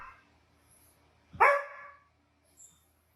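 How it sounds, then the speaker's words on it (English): A single sharp dog bark rings out in an otherwise quiet space, followed by a faint whimper moments later. "He's crying and barking for help."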